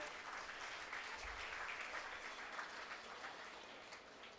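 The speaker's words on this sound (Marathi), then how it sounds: "आपण सगळ्यांनी एकदा हात वरती करून टाळ्या वाजूयात" A crowd at a workers' gathering clapping with hands raised, producing a continuous, even roar of applause at moderate distance.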